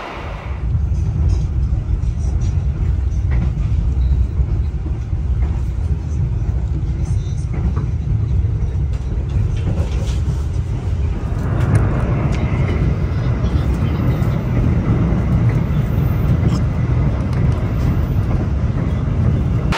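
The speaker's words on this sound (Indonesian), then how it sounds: "perjalanan kereta api Dharma Wangsa yang saya naiki telah tiba di stasiun Ngrombo" A Dharma Wangsa passenger train running on the Jakarta–Surabaya line produces a steady, heavy low rumble heard from inside the carriage, continuous and loud with a slight shift in tone partway through.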